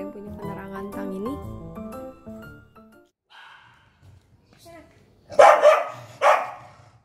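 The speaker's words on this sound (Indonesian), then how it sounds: "Corgi itu berisik. Yes, di antara semuanya, Pluto yang paling sering barking atau gonggong-gonggong gak jelas" A noisy corgi lets out two loud, close barks after a stretch of quiet music and soft background sounds.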